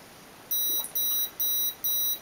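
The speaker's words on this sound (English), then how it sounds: "One beep is low. Two beeps is medium high." An electronic speed controller on an MJX F645 helicopter with a brushless motor mod gives four evenly spaced, steady electronic beeps during programming, each lasting about a third of a second, clear and alone.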